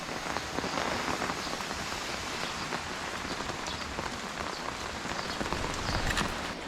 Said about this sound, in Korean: 지금 비가 많이 와서